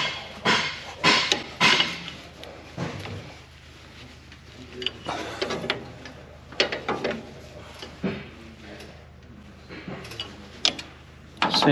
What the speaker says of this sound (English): So you're going to take your 3/4-inch wrench and put on here.